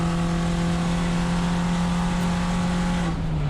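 A VW Jetta GLI Super Touring Car accelerates hard on a race track, its engine holding a loud, steady high-rev drone throughout, with the pitch dipping slightly at the end.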